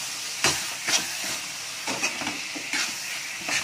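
Onion masala with turmeric sautés in a pan for an egg thokku, giving a steady broadband hiss broken by several sharp stirring and scraping strokes, with no voices.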